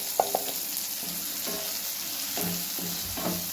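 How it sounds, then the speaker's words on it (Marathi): Ground coconut masala frying in oil in a kadhai after tomatoes, a soft continuous sizzle broken by a few sharp clinks and spoon-stirring scrapes, close by and without speech. "चांगलं तेलात असं भाजून घेऊया बघा। चांगलं भाजून घेऊया मसाला।"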